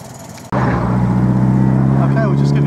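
A 1950 MG TD Midget roadster's engine runs loud and close with a steady, continuous drone, starting abruptly and holding evenly throughout.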